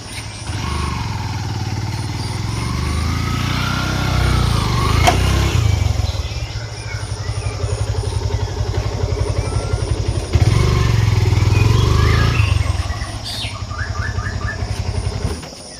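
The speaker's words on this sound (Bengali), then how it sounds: "একজন ভাই আসতেছে মোটরসাইকেল নিয়ে।" A motorcycle crosses a small bridge in Pubail, Gazipur, its engine droning steadily nearby for the whole stretch, with a couple of louder surges, faint bird chirps and rustling over the top.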